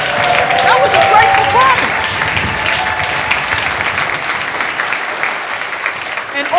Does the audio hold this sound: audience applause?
yes